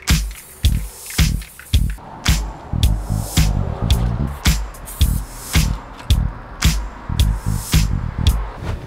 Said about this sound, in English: we are going to add the spray adhesive to my planner